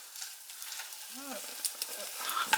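An egg fries in a pan and gets flipped, a steady soft sizzle with a brief scraping, squeaky turn partway through and a few light knocks near the end.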